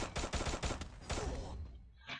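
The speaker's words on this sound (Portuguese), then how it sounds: "Eu não gosto dessa arma que dá tiro em papapá lá." Rapid bursts of video game gunfire crack in quick succession, then thin out and fade into a faint tail with a last short noise, all fairly quiet and with no speech.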